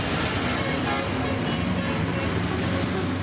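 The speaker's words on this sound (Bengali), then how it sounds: "অবাধে ব্যবহার হচ্ছে নিষিদ্ধ হাইড্রোলিক হর্ন" Road traffic with vehicle horns honking amid steady engine and roadway noise from cars, buses and trucks, loud and constant, with no clear talking.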